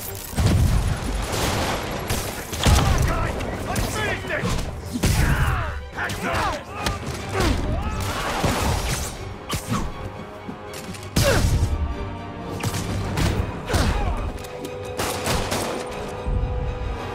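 Thugs in Marvel's Spider-Man fire repeated loud volleys of gunfire at close range. Thuds and crashes land between the shots, and shouting voices come through now and then.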